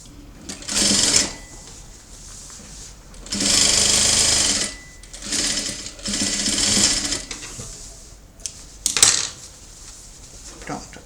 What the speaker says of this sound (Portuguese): vamos fazer o pesponto desse lado. E o pesponto deste lado.